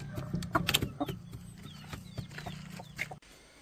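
Young chicks in a backyard coop give faint, thin peeping chirps and soft clucks, scattered and irregular, with a few dull knocks mixed in.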